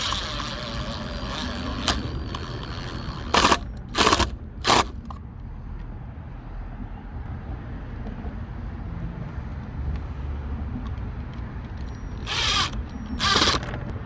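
A power drill whirs in several short bursts, driving screws into a DIY custom backyard privacy door, with quiet pauses between the runs and two more bursts near the end.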